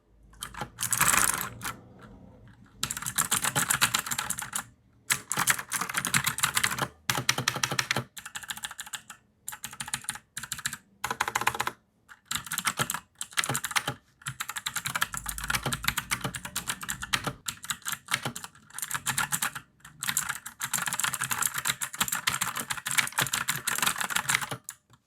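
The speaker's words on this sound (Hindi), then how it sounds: "मैं सबसे पहले आपको इस कीबोर्ड का आवाज़ सुना देता हूँ।" Typing on a Cosmic Byte CB GK16 Firefly mechanical keyboard with Outemu Blue switches, a close, crisp run of clicky keystrokes in rapid bursts separated by short pauses, no voice.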